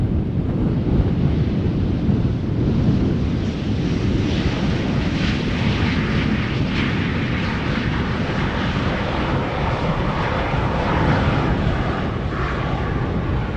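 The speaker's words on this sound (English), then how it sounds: "More Embraers 190 in the background. This one from KLM itself, going to the central runway." A KLM Embraer 190 jet taxis toward the central runway at Schiphol Airport, its engines a steady, unbroken roar blended with gusty wind noise on the microphone throughout.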